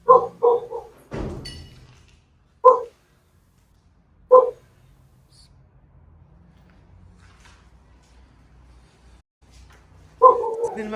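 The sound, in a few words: dog barking outside the house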